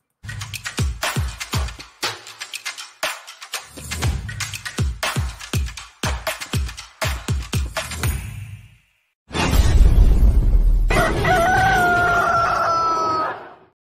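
Intro jingle for an Atlético Mineiro football news channel: a rapid series of punchy percussive hits and whooshes, then a loud burst followed by a sustained rooster crow, with no talking.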